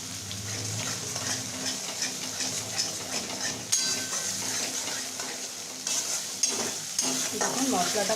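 Masala spices sizzle and fry steadily in a pan while a utensil stirs and scrapes through them, with occasional metallic clinks over a soft, continuous crackle.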